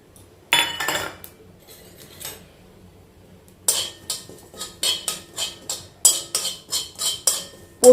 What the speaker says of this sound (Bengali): এটাকে ফার্স্টে আমি শুকনো খোলায় একটু ভেজে নেবো